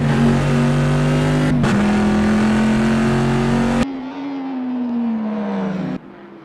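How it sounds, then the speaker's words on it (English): A race car engine in a CMRSC endurance race at the United States Grand Prix circuit, loud and close, holding a steady high drone, then a shift change and lower revving as it pulls back onto the track. "he's going to have to take to the grass, accelerating back out onto the circuit"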